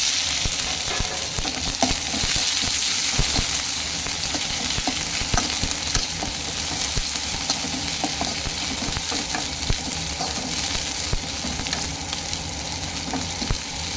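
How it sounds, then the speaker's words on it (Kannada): Onions frying in oil in a pan with crushed garlic for a quick tomato sambar, a dense continuous sizzle with soft scraping stirs throughout, loud and close. "ಈಗ ಈರುಳ್ಳಿ ಹಾಕೊಳ್ಳಿ ಈಗ ಫ್ರೈ ಮಾಡಿ"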